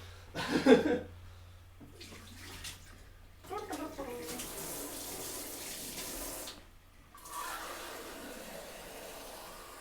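Water running from a tap into a container, close by, in several bursts of gushing and splashing separated by brief pauses, with a low steady hum underneath.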